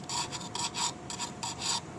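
Fine rod strokes lightly deburr the serrations on a knife edge, making quiet, close rasping scrapes in a steady back-and-forth rhythm of about half a dozen short passes.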